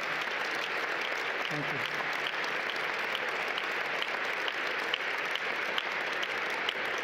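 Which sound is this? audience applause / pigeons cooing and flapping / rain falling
audience applause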